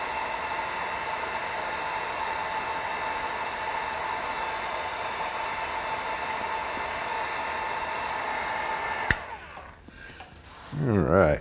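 A heat gun blows a steady, hissing airflow to shrink heat-shrink tubing on wiring during a 2003 Chevrolet Silverado 4L60E transmission overhaul, a constant whoosh that cuts off near the end, followed by a person talking.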